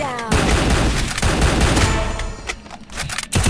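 Rapid automatic gunfire crackles loud and dense in the Free Fire battle royale game, with bursts layered over continuous in-game noise and a voice faintly mixed underneath.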